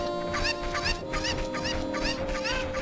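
Chickens from The Legend of Zelda: Ocarina of Time cluck in quick, repeated bursts, a busy flock-like run of game sound effects with no voices over it.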